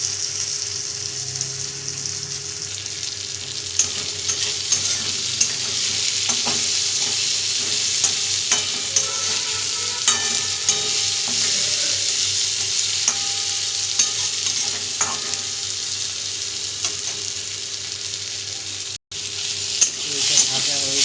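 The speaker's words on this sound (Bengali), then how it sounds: "গোটা জিরেটা হালকা করে ভেজে নিচ্ছি এর সঙ্গে।" Whole cumin seeds fry with potatoes in a pan while soybean curry is being cooked, giving a steady, close sizzle and crackle that runs the whole time, with occasional stirring scrapes and no talking.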